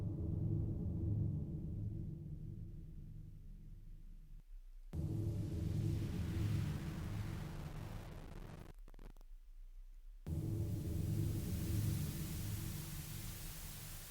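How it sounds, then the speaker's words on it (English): Harsh, gritty digital truncation distortion in 16-bit audio with a buzzy noise floor, running steadily and cutting abruptly between sections. "what you're hearing there is actually truncation distortion."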